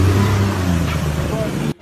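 A boat engine revs hard as the craft pulls away at sea, a loud close rising drone that cuts off abruptly near the end.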